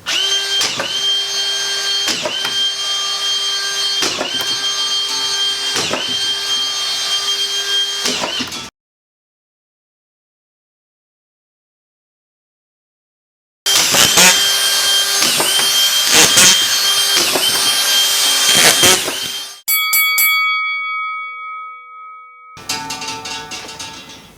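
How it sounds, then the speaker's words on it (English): A cordless drywall screw gun drives screws into drywall sheets in loud, close whirring bursts, each ending in a pitch drop as the screw seats. There are pauses of silence, then a final string of short revs. "So I'm going to run, I don't know, 6 or 7 screws in, whatever I just decide to here."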